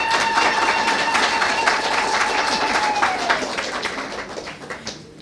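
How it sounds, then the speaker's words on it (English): A launch-event audience claps in a full round of applause that slowly fades toward the end, with a sustained tonal voice-like sound held over it. "Can we please give Ms. Wanja another round of applause?"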